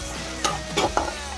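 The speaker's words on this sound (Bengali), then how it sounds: "একসাথে পেঁয়াজ ভাজছি" Onions frying in a pan with whole garam masala give a steady sizzle, broken by two or three quick scraping stirs of a utensil, close by and with no voices.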